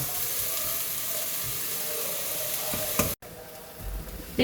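Onions or similar ingredients sautéing in a pan for an egg curry, a steady close sizzle and hiss with a stirring scrape near the end followed by quieter frying.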